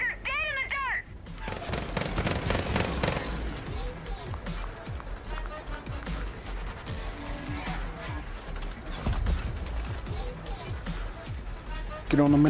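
Rapid automatic gunfire bursts in Far Cry New Dawn, dense crackling shots and impacts running through most of the stretch, with a voice talking in the mix.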